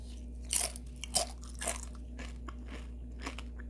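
Crunchy fried pollack skin is bitten and chewed close to the mic, producing several sharp, loud crunches spaced about half a second apart, then softer chewing, with no talking.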